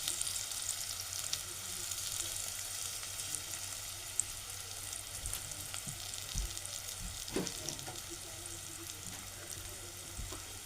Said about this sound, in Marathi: आता मी त्याच्यात लसूण पेस्ट आहे ती पण टाकणार आहे